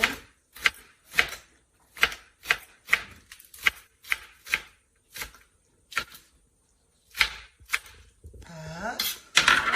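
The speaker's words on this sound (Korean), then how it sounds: "파는 그냥 종종 이렇게 썰어주시면 돼요." A knife chops green onions on a cutting board while preparing kimchi fried rice, sharp crisp thuds in an uneven rhythm with brief pauses, ending in a louder scraping clatter.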